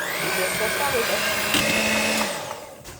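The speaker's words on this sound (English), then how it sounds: "So I have my hand mixer here." An electric hand mixer whirs steadily at close range, mixing cheesecake batter with a constant high-pitched motor drone that lasts throughout and fades slightly at the end.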